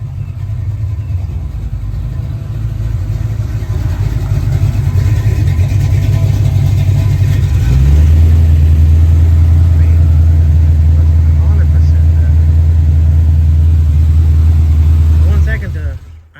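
Chevrolet Malibu G-body V8 running at a steady high idle, a loud, constant low engine drone that thickens midway and holds for many seconds before cutting off abruptly.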